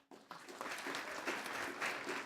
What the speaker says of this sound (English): we can applaud them for their work